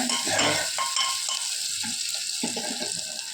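Food sautéing in ghee or oil in a home kitchen, a steady close sizzle with bursts of stirring and scraping of a spoon against the pan.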